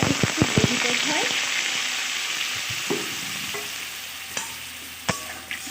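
Spiced bean curry sizzles in a pan as a little water goes in, opening with a burst of clattering spoon stirs and then settling into steady close frying hiss with occasional sharp scrapes.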